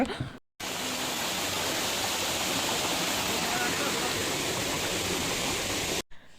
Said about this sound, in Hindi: मु आपण मानकु साउंड शुणुची वाटरफॉल